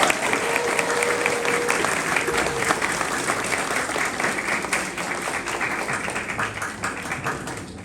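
Audience at a 6th grade promotion ceremony applauds a student speaker, steady dense clapping from a large crowd throughout, roomy and even, with faint voices mixed in.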